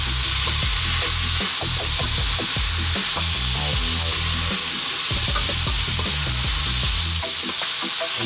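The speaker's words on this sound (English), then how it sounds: "We're now going to reintroduce our pork. And again, another 2 to 3 minutes, stirring all the time." Pork belly and broccoli stir-fry in a hot pan, stirred constantly, giving a loud, steady sizzle broken by dense clattering and scraping strokes throughout.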